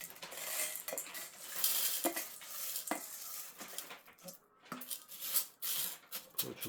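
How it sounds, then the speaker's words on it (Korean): Washed red adzuki beans for Korean sirutteok are tipped into a pot, giving a scattered rattle and clatter of beans hitting metal with several sharp clinks, fairly quiet and close, with no talking. "이거를 그대로 냄비에 부어주겠습니다"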